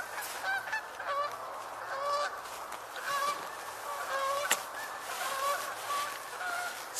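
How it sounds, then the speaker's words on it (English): Geese honk repeatedly as they fly off from a wetland where mallards and hooded mergansers are about, their calls overlapping in a steady chorus at moderate distance, with no speech. "Seems like geese are leaving."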